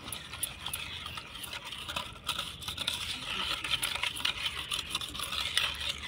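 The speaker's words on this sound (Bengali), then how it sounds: "দুধটা দিয়ে আমি সব কিছু ভালো করে আরও একবার মিশিয়ে নেব।" Cake batter for a carrot sponge cake being mixed by hand after a cup of cooled milk is added, a steady, continuous scraping and stirring texture at moderate level throughout, with no one talking.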